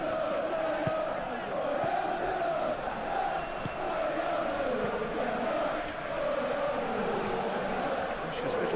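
Stadium crowd in the PES 2021 football game, a steady distant murmur and swell of many voices that rises and falls in waves, with a commentator's voice talking over it.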